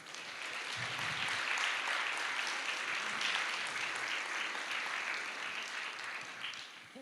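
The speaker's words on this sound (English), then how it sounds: "If we could give him a round of applause." A crowd at an athletic awards ceremony claps in sustained, dense applause that holds steady for several seconds before tapering slightly.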